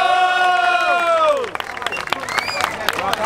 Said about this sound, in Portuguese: Uma salva de palmas pra nós aqui.